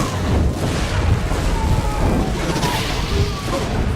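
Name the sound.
cannon fire in video game Dungeon Siege III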